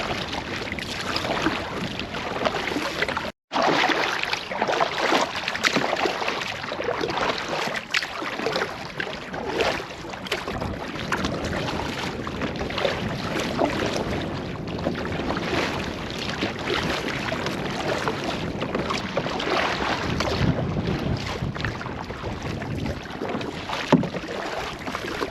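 A canoe paddled on a lake on the Cedar River Flow, with steady water wash and wind buffeting the microphone throughout, a brief dropout early on, and no talking.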